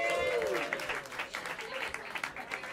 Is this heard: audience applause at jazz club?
yes